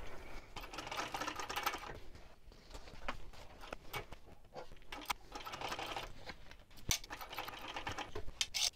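Sewing machine chain stitching a clutch seam, running in several bursts with short pauses between, moderately close and steady while it runs.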